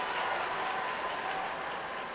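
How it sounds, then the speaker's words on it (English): A soccer stadium crowd at a Portland Thorns versus Seattle Reign women's match, a steady broad roar of murmuring and scattered clapping in anticipation, continuous and fairly distant. "Crowd in anticipation."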